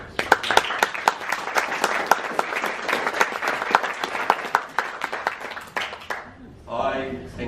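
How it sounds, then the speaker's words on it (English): Audience applause at the world premiere of August Watershed, a dense run of claps for about six seconds that tapers off, followed by a brief stretch of speech. "Would you please stand and receive our applause?"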